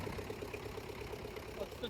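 An MTZ tractor engine labours while pulling a cultivator through heavy post-winter virgin soil, giving a steady mid-to-low droning rumble with a faint rhythmic knock throughout.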